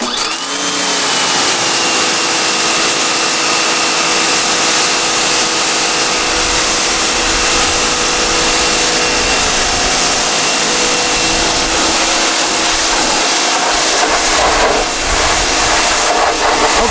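A pressure washer sprays rinse water over a car after foam cannon washing, a loud, continuous hissing spray with a steady motor whine underneath, holding evenly throughout with slight shifts as the wand moves.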